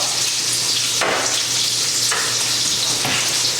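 Brussels sprouts sizzle loudly in hot oil and butter in a pot, a steady close frying hiss with a few brief dips as they are spread out and shifted.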